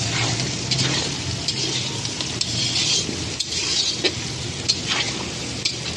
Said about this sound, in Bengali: এখন একটু আলুটাকে ভেজে নেব।